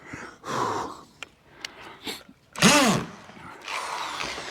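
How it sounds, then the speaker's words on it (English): An overheating, smoking XU1 power drill, used on a fence post repair, whirs in short bursts, one rising into a strained whine, with breathy sounds and pauses in between. "There's literally smoke coming out of this fucking drill."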